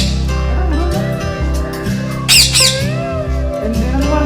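A young parrot chick squawks loudly and repeatedly at close range in a Kerala home, with shrill, wavering calls and a person talking nearby.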